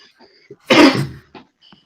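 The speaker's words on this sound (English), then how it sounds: "Sorry, a bit of a cough there" A single loud cough bursts out up close, with faint murmuring and small mouth noises before and after it.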